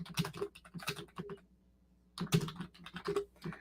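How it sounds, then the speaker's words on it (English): Brisk typing on a computer keyboard, rapid clusters of clicking keystrokes in two bursts with a short pause between, close and quiet with no talking. "Hang on, I'm just typing it out."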